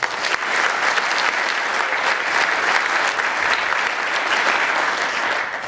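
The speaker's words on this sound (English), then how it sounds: "please give a round of applause for Gail Parsons" A concert audience at a USAF Heartland of America Band show applauds after an introduction from the Junction City Arts Council, producing a thick, even wash of clapping that holds loud and steady for several seconds.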